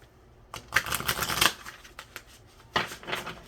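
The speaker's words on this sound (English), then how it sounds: "Give it another shuffle and try again." Tarot cards being shuffled by hand, with two bursts of crisp riffling and flicking separated by a quieter pause, close and moderately loud, with no talking.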